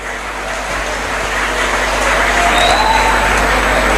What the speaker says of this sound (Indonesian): Tepuk tangan dulu dong untuk para santri UKI